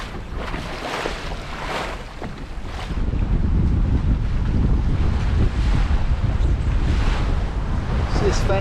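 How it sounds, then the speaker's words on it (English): Wind rushes and waves slap around a single-handed 20-foot Norfolk Gypsy sailing boat tacking up the coast at sea, a steady broadband roar that grows louder and fuller about a third of the way through, with no talk. "Wind, sun, few waves, all going great."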